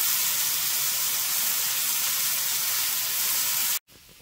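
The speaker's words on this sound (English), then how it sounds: "Dinner is cooking nicely. It's steak on the stone." Steak cooking on a hot stone gives off a steady, close, even sizzling hiss that runs for several seconds before stopping abruptly.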